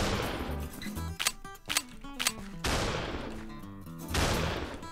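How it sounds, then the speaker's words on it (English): Shotgun blasts in a Minecraft gun mod, several loud sharp reports with rattling reload clicks and descending game tones between them, set against a busy game soundscape. "So that is the shotgun."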